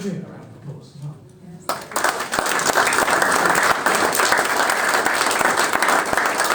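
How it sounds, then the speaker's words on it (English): At a memorial gathering, a voice speaks briefly before a crowd breaks into full, loud applause that continues steadily to the end. "I'd like to give Adrian a round of applause as well"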